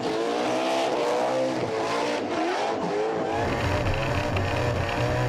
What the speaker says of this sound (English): Always very, very sweet sounding revs coming out of this 380 cube small block Chevy powered Monaro.